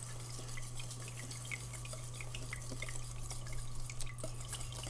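Chocolate pudding mixture for an Oreo pie is poured slowly into a cup, making a soft continuous dribble with small drips and splashes, close and fairly quiet, with no speech.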